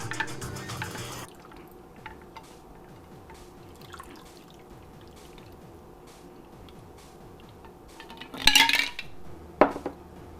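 A shaken Manhattan cocktail poured out of a shaker, giving a soft, steady trickle and drip of liquid, then a couple of sharp clinks of glass and metal near the end.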